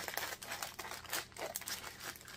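Scissors cut through joined plastic packs of diamond painting drills with faint, close crinkling and crunching snips, quiet and brief with no talking.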